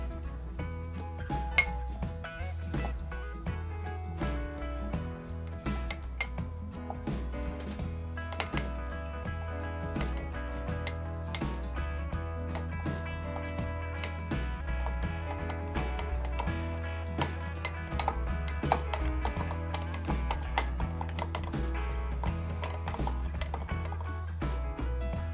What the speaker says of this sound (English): so I'm just gonna keep stirring it